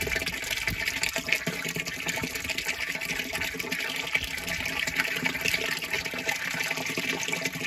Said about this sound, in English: But it's filling up.